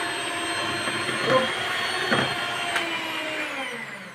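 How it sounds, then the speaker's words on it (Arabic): Electric mixer running with a constant whirring hum as it beats flour and ghee into kahk dough, with a few brief knocks against the bowl. "وابدا اشغل المضرب."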